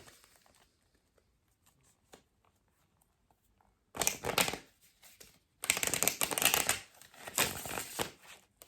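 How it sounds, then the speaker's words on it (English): After a few quiet seconds, tarot cards are riffled and shuffled in two bursts of crisp, papery rattling, close and fairly loud. "let me do one shuffle and we'll start."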